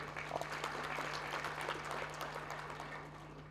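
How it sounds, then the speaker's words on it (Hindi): An audience at a memorial lecture applauds with a steady wash of clapping throughout, accompanied by a constant low electrical hum. "तालियां बजाई है"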